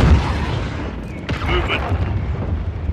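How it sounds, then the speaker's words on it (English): A cruise missile strike in a video game lands as a deep rumbling boom, with a heavy low-end blast rolling on and fading under a lingering crackle. "Friendly cruise missile deployed."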